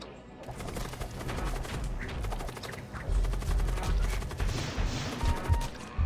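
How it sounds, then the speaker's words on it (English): Flare missiles fire in the space combat game Void War, a rapid volley of sharp, punchy bursts and crackling impacts that swell in waves, loud and dense over a low rumbling background. "Flare missiles."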